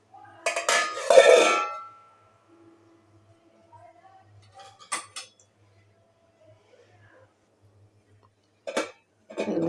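A metal vessel clatters into a pot of water in one sharp burst of clinks and scrapes. A few softer knocks follow, then a short clatter at the end, with quiet between.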